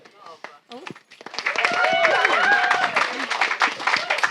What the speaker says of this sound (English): Please, another round of applause to our fantastic panelists